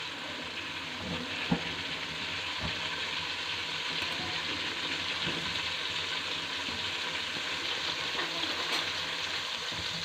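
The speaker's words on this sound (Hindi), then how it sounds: "हमारा लहसुन ब्राउन होने लगा है, इसकी धीमी धीमी की खुशबू अच्छी लग रही है।" Garlic frying in a pan while halim is prepared, giving a steady, moderate sizzle with faint crackles and an occasional stir throughout, with no talking.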